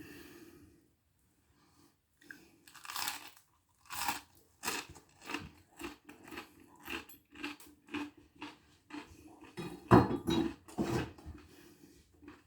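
Crisp crust of homemade no-knead bread spread with Irish butter, bitten and chewed close up: a run of sharp crunches about every half second, loudest around the middle, with breathing between bites and no talk.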